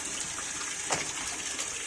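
Steady, hissing wash of waves at a shoreline where crabs are being caught, a continuous broadband rush with one brief surge midway and no talking.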